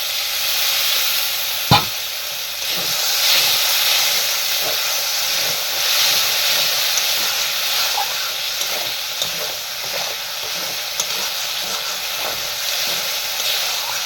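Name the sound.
water poured into a hot curry pan, steaming and sizzling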